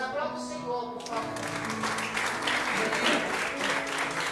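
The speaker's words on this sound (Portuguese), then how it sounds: "Aplauda o Senhor, por favor." A church congregation at a prophetic evening service breaks into applause after a prayer, steady clapping from many hands filling the room, with a sustained musical tone beneath it.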